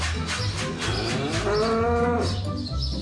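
A docile Wagyu cow lets out one long, close, loud moo that swells and holds before trailing off, with no talk over it.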